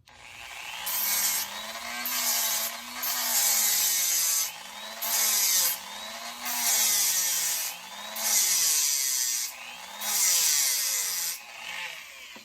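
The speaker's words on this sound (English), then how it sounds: "So I'm gonna turn my Dremel on for a few minutes." A Dremel rotary tool whines steadily while it grinds and sands in repeated strokes, the gritty hiss rising and falling every second or two.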